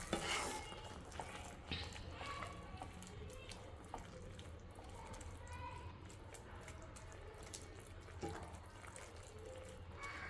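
A spoon stirs milk into carrot halwa in a pan with soft, faint scraping and liquid swishing, and a few small clinks.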